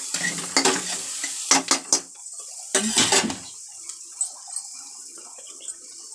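Ginger garlic paste hits hot oil in a pan while cooking egg curry, giving bursts of sizzling and stirring scrapes in the first few seconds, then fading to quiet light crackles and clinks.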